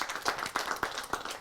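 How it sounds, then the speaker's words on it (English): Scattered hand clapping from an audience at a women-in-transport event comes as brief, fairly sparse claps, moderately close. "A round of applause."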